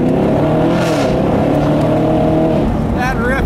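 A 2016 Chevrolet Camaro SS convertible's V8 roars loudly and close, holding a deep rising rev with a rasping exhaust note, while someone talks over it briefly near the end.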